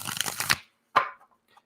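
Tarot cards from a Mystic Dreamers deck shuffled by hand up close: a rapid riffling burst, a short pause, then one sharp slap of cards and a faint trailing tap.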